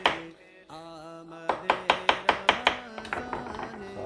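A knife cuts through watermelon for a creamy fruit chaat with a quick run of crisp, evenly spaced chopping strokes on a board, close and clear, following a brief faint ringing tone.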